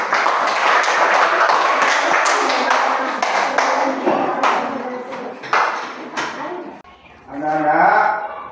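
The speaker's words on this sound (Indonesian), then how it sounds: "Beri tepuk tangannya kelompok satu." Fifth-grade classroom applause for a student group during a Christian religion lesson: scattered, uneven claps rising and thinning over several seconds, with children's voices and talk mixed in and chatter near the end.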